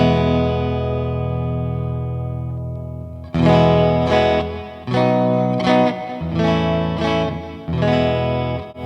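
Electric guitar played through preset tones on a budget multi-effects pedal: a long sustained chord ringing out, then a loud series of rhythmic strummed chord stabs with effects, and no talking.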